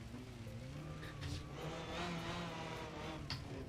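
Rally car sliding on gravel under handbrake in the Assetto Corsa racing game on a gravel Nürburgring, its steady engine drone and tyre scrub running throughout with brief rising revs, loud and close.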